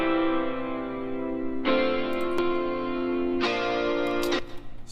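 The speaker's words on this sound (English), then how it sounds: "Actually, without effects, they sound like this." Dry, unprocessed sampled guitar, heard as three sustained chords struck one after another, each ringing steadily with bright harmonics before the next strum, played alone without voices.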